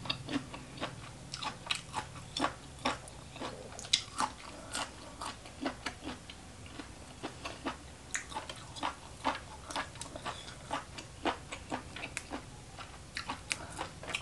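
Crunchy, spicy pounded papaya-style salad being chewed close up, with steady crisp bites and crunches repeating throughout, no talk.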